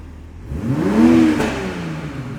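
Tuned 2020 Toyota Supra engine giving a single quick rev blip that rises and falls over about a second, with a low exhaust burble trailing off afterward, heard fairly close and alone.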